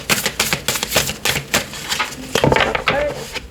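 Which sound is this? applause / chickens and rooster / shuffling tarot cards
shuffling tarot cards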